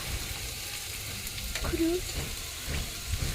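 Papaya leaves fry in a pan with a faint, even sizzle and light stirring, with some quiet voice in the background.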